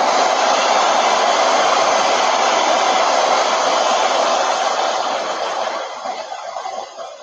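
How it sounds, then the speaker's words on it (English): A hair dryer blows steadily with a loud broadband whoosh, tapering off slightly near the end. "Let me just hit this part with a dryer real quick."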